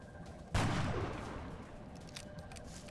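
A sharp burst of gunfire in the XCOM video game, one loud crack followed by a rattling volley that trails off into fainter scattered shots.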